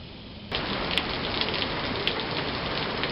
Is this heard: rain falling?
yes